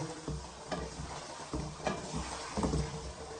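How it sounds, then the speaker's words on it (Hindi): Chicken pieces going into hot oil left from browning onions, giving a faint sizzle with a few clattering stirs and knocks at intervals. "इस ऑयल में हमने प्याज ब्राउन किया था, उस ऑयल में हम डालेंगे चिकन।"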